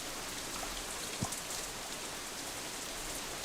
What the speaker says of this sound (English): This horrid downpour came on just as we were between our destination and Yamaku